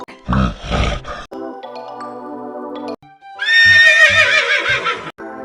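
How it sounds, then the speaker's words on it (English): A horse whinnies loudly and close by in a long shrill neigh, preceded by snorting and a lower grunting call. "Horse."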